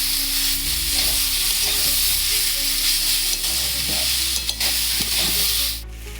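Onion stalks and potatoes fry in a pan with sesame paste, a dense steady sizzle up close with rhythmic stirring scrapes, fading slightly at the very end, no voices.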